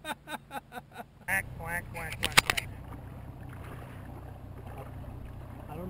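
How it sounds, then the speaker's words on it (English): A duck quacks a few times in quick succession near a boat on Lake Mohawksin in Tomahawk, Wisconsin, before a boat motor hum and splashing take over, with people talking nearby. "I don't know if that's an albino duck or what."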